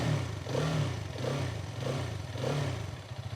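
A 2023 Hero Karizma XMR motorcycle's short exhaust held at medium revs, a close, rough engine drone rising and falling in three or four gentle surges.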